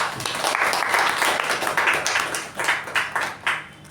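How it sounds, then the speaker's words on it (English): Audience applause at a Toastmasters club meeting, fairly close and dense clapping that thins toward the end into a few separate, louder claps. "Please give a huge round of applause to our president, Toastmaster Pavani."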